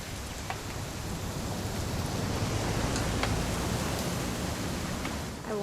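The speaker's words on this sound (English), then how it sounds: "It's gonna rain the whole weekend," Steady rain pours down in a video game scene set on a weekend hunting trip, a constant hiss of broadband noise with faint scattered drops, even and unbroken throughout.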